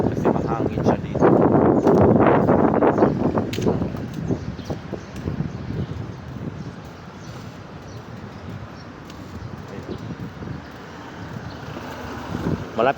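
Strong wind gusting by the water near UST, a loud rushing buffet on the microphone that is heaviest at first and then eases to a steady blowing, with a person talking over it.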